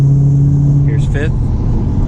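Steady low road rumble and engine drone fill the cabin of a manual-transmission Lincoln Mark VIII cruising in fifth gear through a tunnel, with a brief voice sound breaking in midway.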